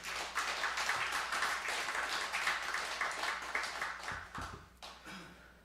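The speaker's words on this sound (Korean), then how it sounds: "큰 박수 부탁드립니다." Congregation applauding during a Korean church worship service, a dense, sustained patter of many hands clapping that fills the room and then thins out and tapers toward the end.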